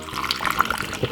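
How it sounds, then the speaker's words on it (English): Water pours into a Ninja blender jar for a homemade juice, a short steady splash and trickle at close range with no talking. "we're gonna add some water."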